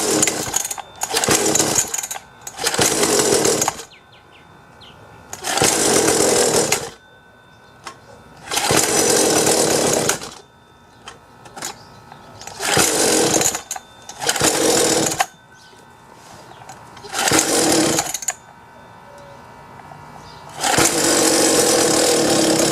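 A two-stroke mini dirt bike engine that won't turn over or start is cranked in a series of loud, buzzing bursts of a few seconds each, separated by short pauses, with no speech.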